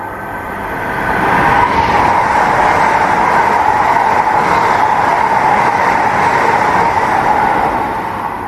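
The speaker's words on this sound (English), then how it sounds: "We're going to have a high-speed train." A high-speed train roars steadily through a station, loud and continuous, swelling in and fading slightly at the end, with no voices.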